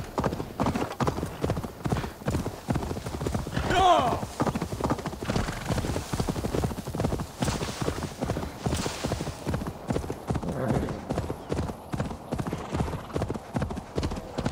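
A horse's hooves clip-clop in a steady trotting rhythm in Assassin's Creed Valhalla, with a brief whinny near the start and faint game ambience underneath.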